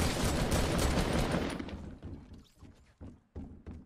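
A new gun fires in the Fortnite video game, starting with a dense sustained burst and then trailing off into several separate slower thumping shots, close and loud.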